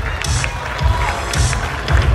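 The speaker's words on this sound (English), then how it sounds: "ขอเสียงปรบมือด้วยครับ" A crowd at a male pageant's formal wear preliminary claps and cheers steadily, a dense, loud wash of applause with rhythmic thumps under it.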